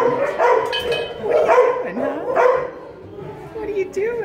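Dog making several short barks and yips indoors, close and moderately loud, interspersed with whimpering, while someone talks to it affectionately.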